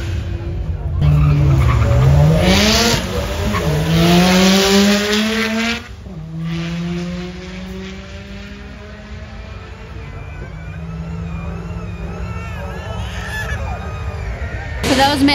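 A V8 Audi launches down a drag strip, its loud engine climbing through rising gear pulls with tire squeal, then a sharp drop and a steady, continuing roar.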